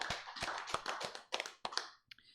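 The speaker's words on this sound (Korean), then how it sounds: "하나님께 영광의 박수 돌려드리겠습니다." A church congregation at a Sunday worship service claps in a brisk burst of applause, hands striking in quick uneven beats that fill the room before tapering off.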